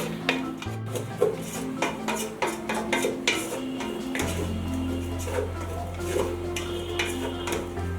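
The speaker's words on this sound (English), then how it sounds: "you allow it for now still stir fry for like 3 to 5 minutes" A utensil scrapes and clinks against a pan while samosa sauce stir-fries over steady sizzling, with irregular knocks and a low hum from the stove running underneath throughout.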